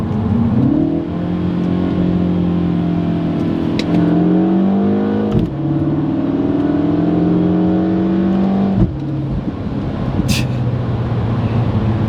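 Mini Cooper engine held on a downshift in sport boost mode, a steady loud drone inside the cabin that rises in pitch in stages, with short shift dips between.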